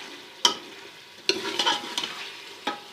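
A spoon stirs yogurt and cream into black-pepper mutton in a pot, giving a few sharp scrapes and clacks against the metal over a low simmering sizzle, close and without talk.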